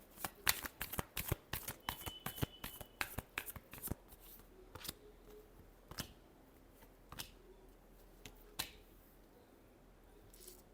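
Tarot cards being shuffled by hand, a close, fast run of crisp riffling snaps for the first few seconds, then slower scattered flicks and taps in a quiet room.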